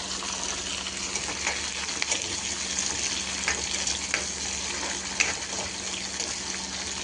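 Tomato and dried fish curry frying in oil while being stirred, a steady close sizzle with scraping stir strokes throughout, no talk.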